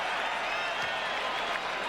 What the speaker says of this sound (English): Gets his first point and gets a cheer from the crowd